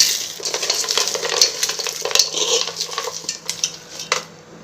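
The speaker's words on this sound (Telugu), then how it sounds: "ఇప్పుడు ఇదంతా మిక్స్ చేసుకుంటున్నాను ఫ్రెండ్స్" Puri muri snack mixture with peanuts is mixed in a pan, bringing rattling, scraping and clinking of a spoon against metal in quick, irregular strokes over a light sizzle, close and fairly loud.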